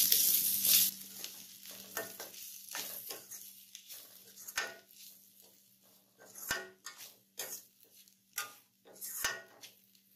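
Bitter gourd with turmeric, coriander and chilli powders is stirred in a frying pan: intermittent close scrapes and clinks of a spoon against the pan over a faint sizzle, with quieter gaps between strokes.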